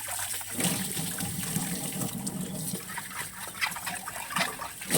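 Water splashes and trickles while a clay cooking pot is cleaned by hand, a close, steady run of small gushes and dribbles with no voices.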